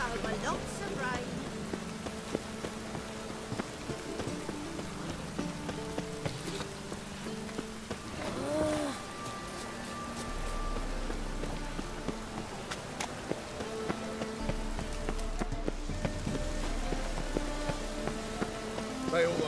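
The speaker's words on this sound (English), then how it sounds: "Lots of fuss over lots of rain." Steady rain hisses across the ground in The Witcher 3, a constant wash that runs throughout, mixed with game music and ambient tones while characters speak over it.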